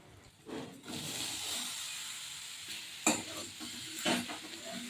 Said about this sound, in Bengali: সয়াবিনগুলো মশলার সাথে খুব ভালো করে মিলিয়ে কষিয়ে নেব